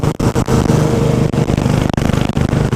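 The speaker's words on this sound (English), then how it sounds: "He just popped a wheelie, man." A motorcycle engine revs hard with choppy, loud bursts as a rider pops a wheelie during a group breakfast ride, close and alone without talk.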